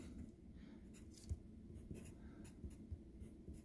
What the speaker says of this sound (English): And we can certainly write those down.